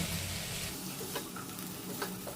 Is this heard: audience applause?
no